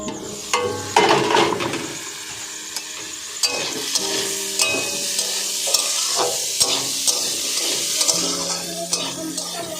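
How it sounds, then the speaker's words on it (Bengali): Potatoes fry in a pan with a continuous sizzle, while a utensil stirs and scrapes against the metal in repeated clinks and knocks. "তো চলো আলু ভাজাটা দেখে নিই কত দূর হলো।"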